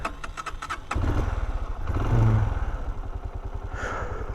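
A 125cc motorcycle engine is started again after trouble with the choke, with quick cranking clicks before it catches and settles into a loud, rapid, close-up idle that swells briefly as it is revved.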